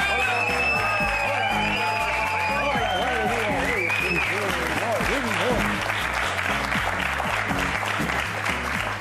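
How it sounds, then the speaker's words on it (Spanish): An audience applauds at a live comedy show, a dense steady burst of clapping filling the room throughout, with musical tones and voices sounding over it. "Un aplauso para los tres idiotas de hoy."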